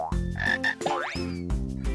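A cartoon frog croaks in a children's sign-language song, a few short bright croaks over bouncy music, loud and close with no talking.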